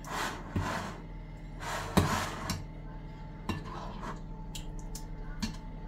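Pizza chicken topping being mixed with oregano in a kitchen: a few soft scraping and clinking stirs against a bowl, spaced irregularly and fairly quiet, with light utensil taps.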